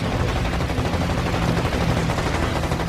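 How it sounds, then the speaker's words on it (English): Dense, continuous machine gun fire striking a Zero fighter plane's canopy during a WWII aerial dogfight, a loud unbroken roar of rapid shots filling the whole moment with no pauses and no voices. "Machine gun fire tears Sakai's canopy apart."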